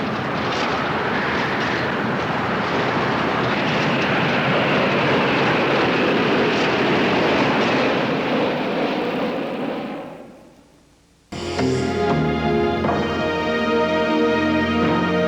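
Steady loud engine roar of an aircraft flying on a single overheating engine, fading out near the end before a different tonal sound abruptly cuts in.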